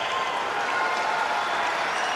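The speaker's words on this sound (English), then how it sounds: "No wonder they're buzzing in the crowd." A gymnastics arena crowd at the Commonwealth Games men's all-around final applauds and cheers in a steady, dense wash of clapping that holds loud and unbroken throughout.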